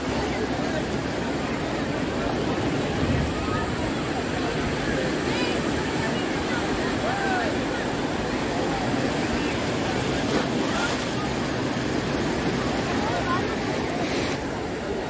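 Sea waves washing in at high tide on Digha beach, a steady broadband roar of surf with wind buffeting the microphone throughout, continuous and close, with voices faintly mixed in.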